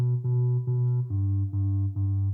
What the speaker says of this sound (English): Very classic sort of dub intro bass sound.